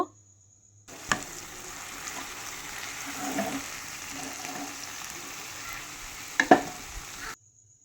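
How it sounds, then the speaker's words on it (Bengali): Spiced food, potatoes and tomato, fries in a pan with a steady sizzle while a spatula scrapes and stirs, with a couple of sharp clinks against the metal. "ঢাকনাটা খুলে নিয়ে এবার একটু নেড়ে নেব।"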